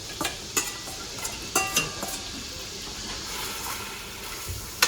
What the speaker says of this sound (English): we're going to throw the cured ham in there